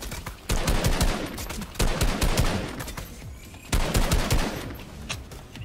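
Rapid bursts of gunfire in the video game Fortnite, loud and repeated in several close clusters of shots with brief gaps between them.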